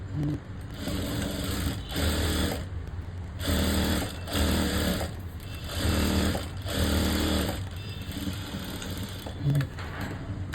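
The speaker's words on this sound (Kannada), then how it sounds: "ಮೂರು ಸ್ಟಿಚ್ಚನ್ನು ನಾನು ಹಾಕ್ತೀನಿ ಸ್ಟ್ರೈಟು" Sewing machine running in repeated bursts of stitching along a blouse side seam, a steady mechanical whir that stops and restarts about every one to two seconds, close and loud.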